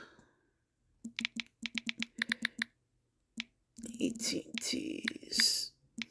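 Computer keys are tapped in a quick run of sharp, close clicks, pausing briefly before a single further keystroke, and then a person starts speaking softly.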